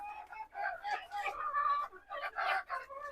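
Farm chickens cluck and squawk in a steady, close chorus that runs throughout, with overlapping calls and a brief crow-like cry mixed in.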